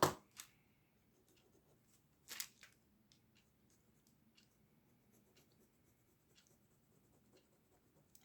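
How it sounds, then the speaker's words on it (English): Pen scribbling on paper to get sparkly ink flowing while embellishing blackout poetry, giving faint scratchy strokes with a couple of louder scrapes near the start and soft intermittent scratching afterward, no voices. "Sometimes I have to just kind of go like this to get the ink flowing on these pens."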